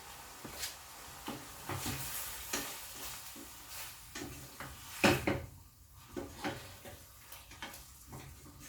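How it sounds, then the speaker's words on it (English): Saltfish cooks in a pot over lowered heat, with a soft sizzle and repeated stirring scrapes, a sharper clank of the pot or lid near the middle, all close and moderate with no talking. "I'm going to let that simmer for a little bit."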